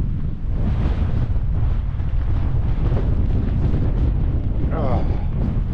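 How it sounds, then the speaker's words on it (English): Steady outdoor wind buffets the microphone throughout, a continuous low rumble with gusts while walking into a headwind on a mountain pass, with a brief voice near the end. "it's windy, but it's not too windy."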